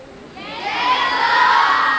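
A large crowd of schoolgirls at a valedictory function cheers loudly, a high, swelling shout of many voices that builds over the moment and holds strong.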